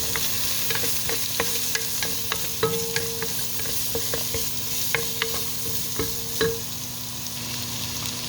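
Onion and garlic are stirred in a hot pan, the spatula scraping and tapping in a brisk, regular rhythm over a constant close sizzle.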